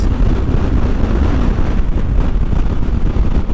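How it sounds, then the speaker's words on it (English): Heavy wind buffets the microphone while a commuter motorcycle cruises along a highway, a loud continuous low roaring rumble with no talking. "Jeez, this wind is killing me."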